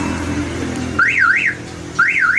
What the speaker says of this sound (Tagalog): Accent Hyundai solution car alarm.